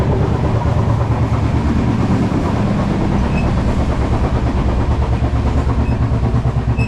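Inside a train travelling in India, a loud, constant rumble of the carriage rolling along the tracks, with faint rhythmic clatter from the wheels and no voices.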